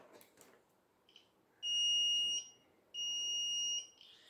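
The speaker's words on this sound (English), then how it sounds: "Today I built a hand gesture horn." Electronic horn on a homemade hand-gesture sensor device built for a robotics league entry, giving two loud sustained tonal blasts of about a second each, separated by a short gap, after some quiet background sound.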